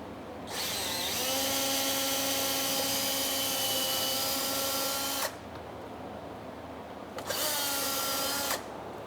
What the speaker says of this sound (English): So I'm gonna drill